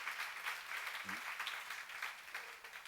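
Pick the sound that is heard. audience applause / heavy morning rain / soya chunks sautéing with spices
audience applause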